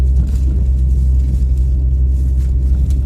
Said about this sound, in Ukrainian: одна машина під'їхала